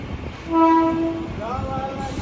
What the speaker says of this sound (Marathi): तर चला मित्र आता ट्रेन आली आपली